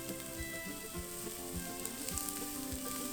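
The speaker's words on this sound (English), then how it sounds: "Saute onion until they turn translucent." Onion, garlic and tofu sizzle steadily in a hot pan, with a soft scrape of stirring every half second or so; the frying is close and continuous, with no voices.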